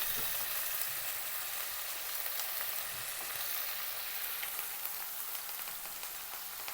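Turkey berries fry with onion and chilli in a pan, giving a fine, continuous crackling sizzle like light rain, with occasional soft stirring and no talking.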